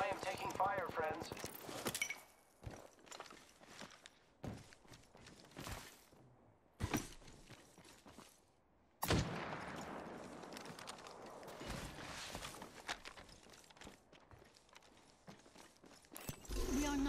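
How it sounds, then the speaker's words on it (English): Apex Legends gunfire erupts in bursts of rapid shots and clattering mechanical noise, loud volleys separated by short lulls, with voices speaking between them. "I am taking fire, friends"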